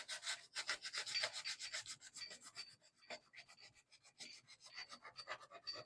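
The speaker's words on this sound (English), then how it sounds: "now to the worst part about prepping anything, hand sanding" Steady rhythmic scratchy rasping of hand sanding a Corvette bumper, quick back-and-forth strokes repeating close up, fairly quiet, with no voices.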